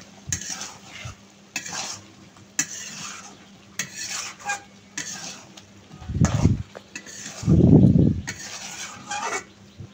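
Fish roe being cooked and stirred in a pan for a Bengali macher dim curry, with scraping spoon strokes against the pan, soft sizzling and two louder, thicker stirring bursts near the end, close and without talk.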